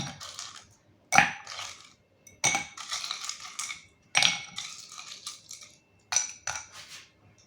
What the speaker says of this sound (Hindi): बर्फ डालेंगे थोड़ी सी, करो।